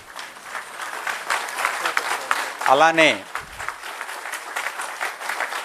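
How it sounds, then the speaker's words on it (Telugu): An audience at a 2022 tax conference rises and applauds, a steady wash of clapping running through the whole stretch with a short spoken word and a brief voiced outburst near the middle. "ఒక్కసారి సుబ్బారావు గారికి మనందరం లేచి నిల్చొని చప్పట్ల ద్వారా మన శుభాకాంక్షలు"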